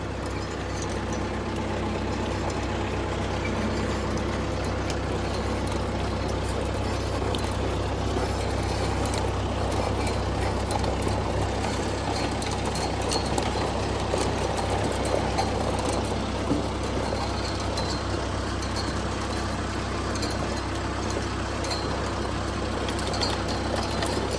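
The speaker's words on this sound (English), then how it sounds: "We'll just call this the sound of fencing." Fence-building work on a farm project, with ratcheting and metallic clinks and jangles over a steady low engine idle, a busy, continuous outdoor clatter with no talk.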